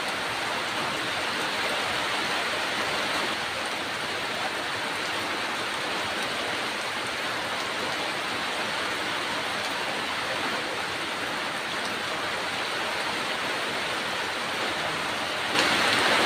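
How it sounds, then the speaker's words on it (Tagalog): Rain falls in a rainy season downpour, a dense, even hiss of drops that fills the whole stretch at a constant, fairly loud level with no pauses. "Kaso ito umulan na naman ulit."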